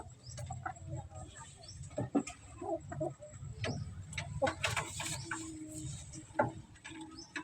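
A white-legged, round-headed sweater gamefowl rooster being kept for breeding makes soft, intermittent clucks and low calls, close by and moderately quiet, among light rustling and scattered farmyard noises.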